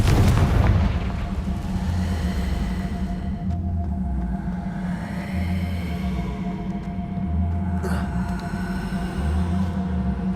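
A Confringo fire spell blast in Hogwarts Legacy, a sharp booming impact at the start that settles into a long low rumbling roar, with a faint crackle later and no voices.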